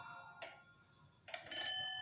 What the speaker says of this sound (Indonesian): Bunyinya seperti jam waker.